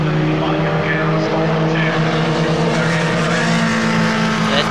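A pack of Formula Vee race cars runs down the Cooper Straight at a 2012 race meeting. Their engines blend into a loud, continuous droning roar, and a commentator's voice is likely present underneath.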